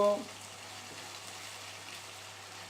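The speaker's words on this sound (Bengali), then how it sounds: "আলু উচ্ছে ভাজা যেটা ভাজা হচ্ছে তেলের মধ্যে দিয়েছে" Sliced potato and bitter gourd frying in hot oil, giving a steady, even hiss and sizzle that holds at a low, constant level throughout.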